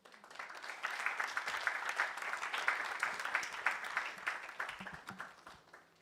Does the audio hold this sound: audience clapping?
yes